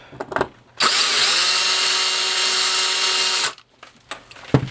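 A power drill drilling out a rivet on a Norscot Cat 365BL model revs up and runs steadily for nearly three seconds close by, then stops, with faint clicks and handling noise around it.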